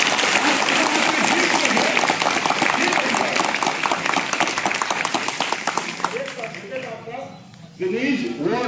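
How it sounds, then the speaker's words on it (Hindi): An audience at a yoga event in Basti district bursts into sustained applause, dense clapping that fades over several seconds, with a voice speaking over it near the end. "तालियों के गड़गड़ाहट"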